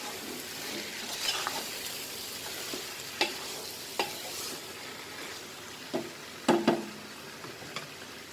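Chicken for Hyderabadi dum biryani being mixed with a spoonful of Kashmiri chili powder, soft stirring and faint sizzle with a few sharp spoon taps against the vessel, close and fairly quiet.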